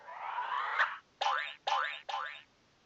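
A cartoonish banana bomb weapon in an Italian-language video game aboard an airship: a swelling whoosh, then three quick springy boing-like bounces in a row, loud and close, with no talking.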